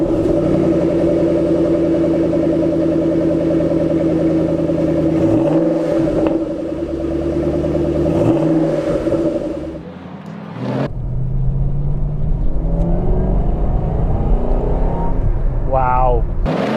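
A Shelby Mustang drives on the road with a steady engine drone and rumble that shifts through a few gear changes and revs, dips briefly near the end, then picks back up with road noise and voices.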